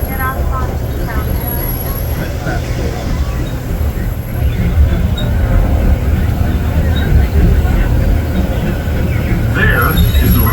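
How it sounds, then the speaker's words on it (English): The Disneyland Railroad train rolls along with a steady, loud rumble of wheels and carriage rattle and occasional faint squeals, while passengers talk nearby over the noise. "We're on the train and we're about to get off on Toontown."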